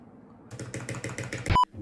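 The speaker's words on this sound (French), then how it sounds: "une vidéo de moi qui essaie ce clavier" A mechanical keyboard with brown switches is typed on, a quick run of about a dozen even, close keystrokes ending in a sharp click and a brief tone.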